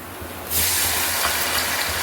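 Water hits a hot pan of curry leaves, coriander and mint, and a loud sizzling hiss erupts suddenly, then steam keeps rushing steadily for a couple of seconds.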